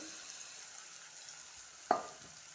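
Ridge gourd pieces frying in a pan for a curry give off a faint, steady sizzling hiss, interrupted once by a single sharp clink of a utensil.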